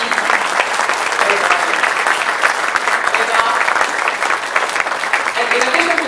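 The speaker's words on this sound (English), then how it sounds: "I'd like you to applaud them." Audience at a university Muslim Students Association event applauding its officers, loud, dense clapping sustained evenly throughout, with a voice faintly mixed in.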